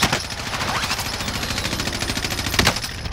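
Rapid automatic gunfire from Call of Duty: Modern Warfare rattles in a dense, continuous burst with a few louder shots near the end, close and loud.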